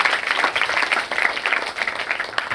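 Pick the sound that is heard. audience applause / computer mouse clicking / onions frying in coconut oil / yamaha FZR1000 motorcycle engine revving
audience applause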